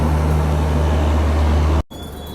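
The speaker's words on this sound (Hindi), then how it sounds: "तो फाइनली 2 मिनट के शेड्यूल हॉल्ट के बाद हम डिपार्ट कर रहे हैं रेवाड़ी जंक्शन रेलवे स्टेशन से" The 12016 Ajmer–New Delhi Shatabdi Express departs Rewari Junction with a steady, loud low rumble and hum that runs without a break, then cuts off abruptly near the end and gives way to a quieter drone.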